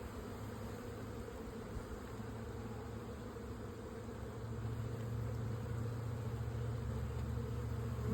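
A dense, steady drone of many honeybees fills the air as a hive is broken down, a continuous buzz that swells slightly louder partway through, with no voices.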